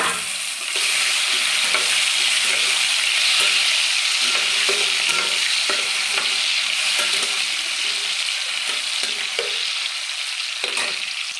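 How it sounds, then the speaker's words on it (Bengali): Dried red chillies, bay leaves, whole cardamom and cloves tempering in hot oil, a loud continuous sizzle close up with frequent small spatters and crackles and occasional stirring, no voices. "ভেজে নেওয়া তেলের মধ্যে আমি শুকনো লঙ্কা তেজপাতা ফোড়ন দিলাম আর গোটা এলাচ লং দিয়ে দিলাম"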